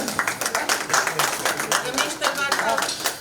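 Audience applause for a lyricist at an Urdu poetry album launch: a dense, steady spell of many hands clapping with sharp, even strikes, with a voice talking over it.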